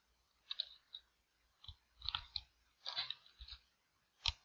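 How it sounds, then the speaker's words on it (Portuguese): Light clicks of typing on a computer keyboard come in short irregular bursts of keystrokes with brief pauses between, close and fairly quiet, no voices. "eu estou digitando aqui"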